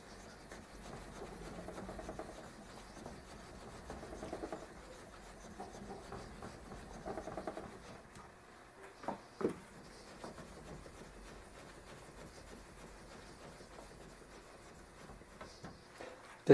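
Tool steel from an old lathe cutter rubbed back and forth on a sharpening stone with slurry, a quiet steady scraping rhythm with a couple of louder knocks midway.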